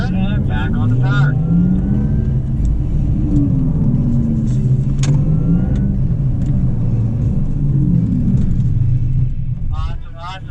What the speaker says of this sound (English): That acceleration off the line is faster than almost any production car built to date.